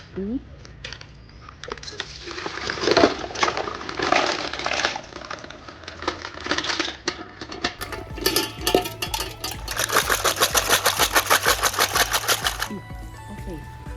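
Mussel flesh being pulled from drained shells for a seafood roast, a busy run of small clicking and crunching shell sounds, close and steady, growing into rapid rattling toward the end.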